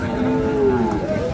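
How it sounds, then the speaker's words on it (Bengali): A cow at a village cattle market where dairy cows with calves are sold lets out one long, close, loud low moo. "গরুগুলোকে দেখছি আমরা"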